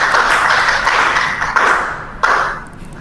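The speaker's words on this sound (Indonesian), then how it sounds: "Ayo tepuk tangan" A group at a hybrid school workshop claps in response to a prompt, producing a few short bursts of mixed clapping with brief pauses and a couple of sharper individual claps, fairly close and fading out.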